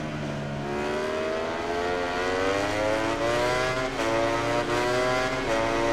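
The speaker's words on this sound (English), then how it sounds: "Here comes the Ducati power, winding it up." A Ducati motorcycle engine in MotoGP 19 revs loud and close, its pitch climbing steadily through a long, unbroken wind-up with brief dips at gear changes.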